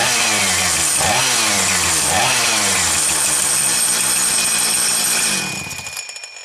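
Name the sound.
Husqvarna 455 Rancher chainsaw starting and running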